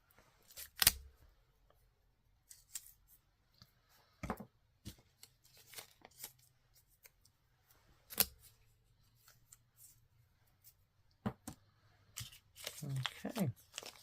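Scissors snip through a paper gift tag in a few sharp, separate cuts spread across quiet pauses, with some paper rustling and handling at the end.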